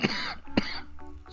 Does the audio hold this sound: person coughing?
yes